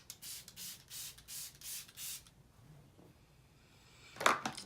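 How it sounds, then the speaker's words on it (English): Smashbox Photo Finish Primer Water misted onto a face in a steady run of about six quick, close, hissing spray bursts, followed by a pause and a short rustle near the end. "finish off my face by spraying it with some Smashbox Photo Finish Primer"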